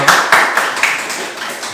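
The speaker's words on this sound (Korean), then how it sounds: "한 번 더 박수를 부탁드리겠습니다" Audience applause at a talk on the Ulsan visual arts scene in a gallery studio setting: a short burst of dense clapping with a few sharper hand claps standing out, fairly close and fading slightly toward the end.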